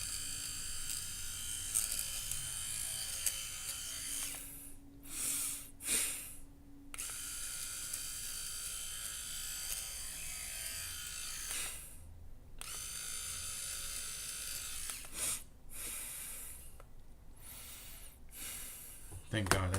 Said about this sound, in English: I gotta get my nose hair trimmer.